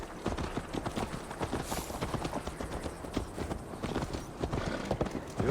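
Horse hooves clip-clop steadily at a galloping rhythm in Assassin's Creed Valhalla as Eivor rides, close and continuous throughout.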